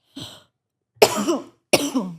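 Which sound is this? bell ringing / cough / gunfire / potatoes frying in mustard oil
cough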